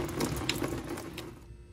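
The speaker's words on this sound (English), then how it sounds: "drain out a little bit of the coolant that's in there." Engine coolant from a Ford Festiva drains into a catch pan beneath the car, a trickling, splashing pour of liquid with a few sharper drips before it tails off into quiet.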